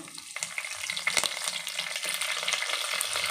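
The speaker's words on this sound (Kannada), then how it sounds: "ಸಾಸಿವೆ ಸಿಡಿದ್ಮೇಲೆ ಕರಿಬೇವು ಸೊಪ್ಪು" Curry leaves hit hot oil just after mustard seeds splutter, giving a crackling, popping sizzle that builds steadily over a few seconds, close and moderately loud.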